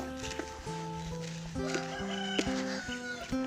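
Chicks feed on a grated coconut mixture amid steady, overlapping cheeping and clucking close by, with a louder crow-like call near the end. No one speaks.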